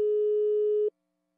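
Steady single-pitched telephone tone from a Brazilian radio prank call, holding for almost a second and then cutting off abruptly, loud and alone.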